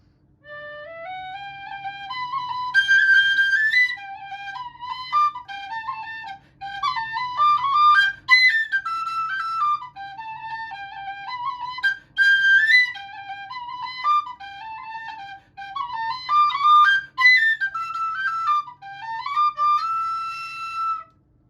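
A Fadog Pro D nickel tin whistle plays a lively jig, its clear, bright melody running in quick, continuous phrases with brief breaths between them, close and alone.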